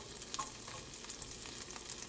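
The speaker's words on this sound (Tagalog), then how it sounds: "Ilagay na natin yung ating sibuyas at bawang sa kawaling umuusok." Onion and garlic fry in a smoking-hot pan, a faint steady sizzle with light crackles and occasional soft stirring scrapes, close but quiet, with no voices.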